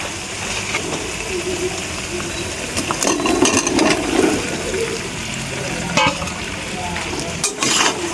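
Chunks of elephant foot yam and potato fry in hot oil with spices, a steady loud sizzle broken by scraping stirs against the pan, swelling in the middle as the pieces are turned.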